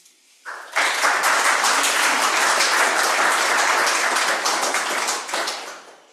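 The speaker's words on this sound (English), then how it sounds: "you just got a very strong round of applause" A strong round of audience applause after a talk on sustainable land use, rising suddenly and holding as steady, dense clapping from a crowd before tapering slightly at the end.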